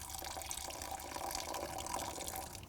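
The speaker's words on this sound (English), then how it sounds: "Let's take a little water and I'm going to pour it down in there" Water poured by hand into the front water trap drain of a Mercedes 123, a steady close splashing trickle that runs without pause and with no talking.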